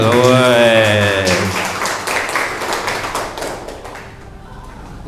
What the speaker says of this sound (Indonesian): Tepuk tangan untuk Abel